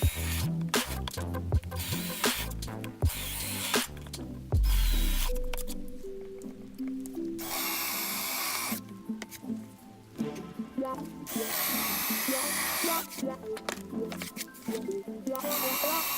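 A power drill bores holes through the top of a homemade folding MFT-style workbench, with long loud whirring runs broken by short pauses and clatter.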